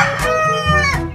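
Hens cluck and call loudly and close by on a farm, a dense, continuous farmyard chorus with no talking.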